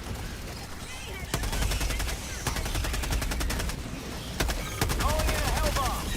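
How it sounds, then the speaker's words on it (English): An automated turret in a sci-fi bug-hunting video game fires long, rapid bursts of close, loud gunfire over a busy game soundscape. "I almost got shot by my own turret"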